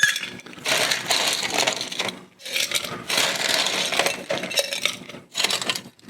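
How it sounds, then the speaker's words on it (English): Ice cubes clatter and crunch into a cocktail shaker glass in several bright, clinking bursts separated by short pauses, close and fairly loud with no talking. "put some ice in it."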